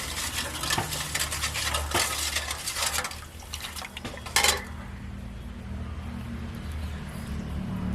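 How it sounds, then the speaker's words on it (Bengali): Sugar being stirred into a mixture in a bowl for patishapta pitha batter, a spoon clinking and scraping around the bowl in quick close strokes for several seconds, then a sharp knock and softer mixing. "চিনিটা দিয়ে একটু নাড়িয়ে নিচ্ছি"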